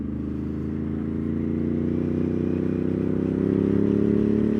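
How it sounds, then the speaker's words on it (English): A motorcycle cruising at about 50 mph, a steady low engine drone with even wind rush, holding a constant loud level with a slight rise in pitch toward the end. "we're just cruising like 50 miles an hour, and it's just a super comfy bike"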